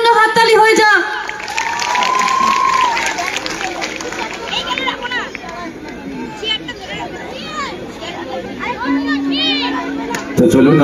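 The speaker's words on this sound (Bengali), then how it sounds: "একটা নিজেদের জন্য হাততালি হয়ে যা।" An audience at a live night-time cultural stage show in Mathabhanga cheers loudly, with whistles, shouts and overlapping voices forming a dense crowd roar throughout.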